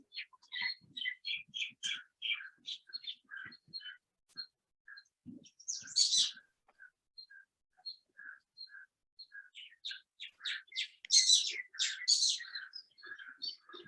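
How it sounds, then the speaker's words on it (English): Birds chirp and sing outdoors in a string of quick, bright, high tweets with short pauses between, fairly clear against an otherwise quiet background. "It's only the birds and the cows that want to talk today."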